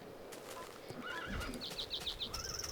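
Horses in the Minecraft Tekkit modded game neigh and whinny in a few quick rising bursts, with soft clip-clop hoof steps and a steady background hum.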